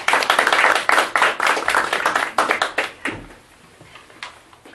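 A small seminar audience claps before the first presentation at an Esperanto movement talk, with distinct, fairly loud claps in an uneven rhythm for about three seconds before trailing off into a few stray hits.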